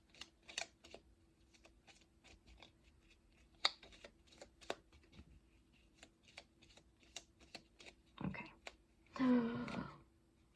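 A deck of cards being shuffled for a tabletop number game: a quiet run of soft, irregular flicks and taps, then two louder riffling bursts close together near the end.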